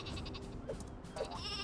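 A sheep in the video game Worms W.M.D. gives two short, quavering bleats about half a second apart, fairly faint against a steady game background.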